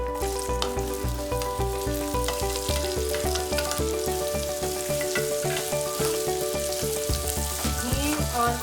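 Chopped raw mango frying in hot oil with nigella seeds for a quick instant pickle, a loud, steady sizzle and crackle in a pan throughout, with rhythmic stirring scrapes and no talking.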